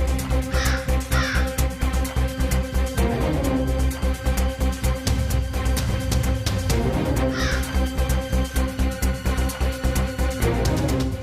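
A crow caws repeatedly in a domestic setting over a steady, rhythmic musical background, with the harsh calls coming in short clusters.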